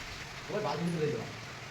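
Sudden heavy rain pours down steadily at a house where false-ceiling work is underway, a constant hiss heard beneath a nearby voice speaking.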